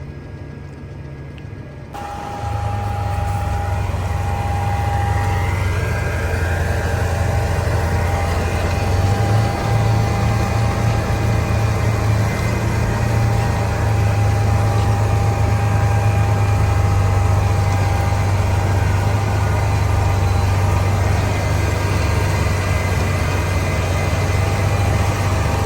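Steady low tractor engine drone while planting Pioneer 1278Q corn in a field, starting up after a brief quiet moment and holding a constant loud rumble with a faint whine, no talking.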